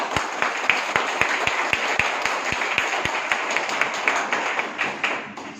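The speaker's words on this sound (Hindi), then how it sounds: "एक बार अपने लिए जोरदार ताली बजाइए, जोरदार।" An audience at a team-building training session claps hard and loudly, with a sharp, evenly spaced beat of rhythmic claps that runs through continuous applause for several seconds before easing slightly at the end.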